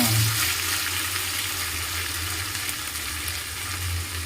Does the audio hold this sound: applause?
no